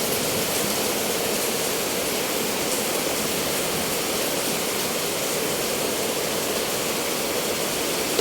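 A sudden heavy downpour of rain roars in a dense, unbroken hiss, loud and close throughout, with no voices.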